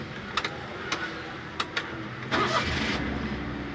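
A car engine cranks and catches after the ignition is cycled, a few sharp clicks and short bursts before a sustained mid-level engine rumble takes over, with no talking.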